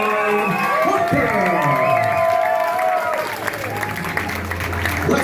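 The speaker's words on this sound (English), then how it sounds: "Let's give a round of applause for Jorge Rodrigues from Checkmat" A crowd at a TUFF 4 grappling super fight applauds and cheers for Checkmat competitor Jorge Rodrigues, a loud continuous wash of clapping and shouting with a voice rising over it.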